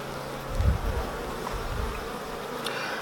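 Honeybees buzz steadily during a June beehive inspection in the UK, a dense low hum that swells briefly early on and then settles into a constant drone close by.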